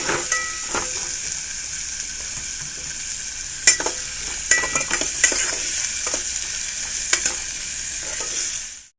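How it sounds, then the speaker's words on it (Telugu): Broad steady sizzle of ingredients frying in a pan until brown for an egg omelette curry, with scattered sharp stirring clicks and scrapes throughout, close and continuous until it cuts off at the end. "బ్రౌన్ కలర్ వచ్చేంత వరకు వేయించుకోవాలి"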